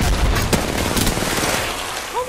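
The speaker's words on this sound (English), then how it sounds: "So, I'm shooting." Rapid gunfire in the video game Apex Legends, a loud, dense burst of shots that runs continuously for a couple of seconds with no talk over it.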